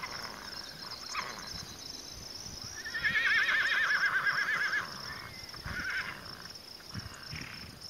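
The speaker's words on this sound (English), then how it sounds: "The black stallion Lanza was feeling very energetic this morning" A wild black stallion at McCullough Peaks, Wyoming, gives a loud, drawn-out whinny in the open, with a few softer snorts and nickers before and after over a steady background of insects and crickets.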